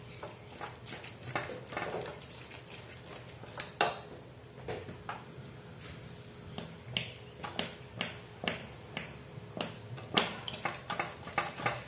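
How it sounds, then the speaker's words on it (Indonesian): Spoon stirring scraped young coconut into a thickening dessert mixture in a pot, giving irregular clinks and scrapes of utensil on cookware, moderately close with steady kitchen background. "Lalu kita masukin kelapa muda yang udah dikeruk. Kita aduk rata."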